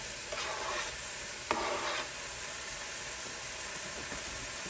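Onions dropped into a hot pan sizzle with a broad hiss, broken by a few scraping stir strokes early on, then a steady fry that continues alone.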